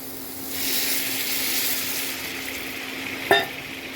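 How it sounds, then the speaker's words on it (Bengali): Water poured into a hot pan of frying soybean masala, a bright, steady sizzle and hiss that jumps up and holds, with a sharp clink of a utensil near the end. "এবার আমি জল অ্যাড করব"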